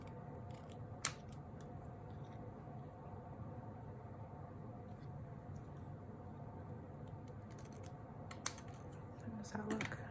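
Quiet scissors snipping the ends of a paper craft piece at a slight angle, with two short crisp cuts over a low background hum.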